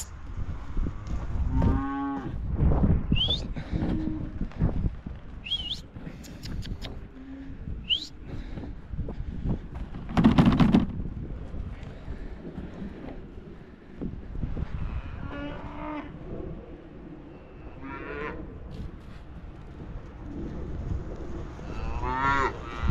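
Cattle low repeatedly across a field while calves are moved and fed, loud close moos mixed with more distant calls, separated by pauses over steady outdoor background noise.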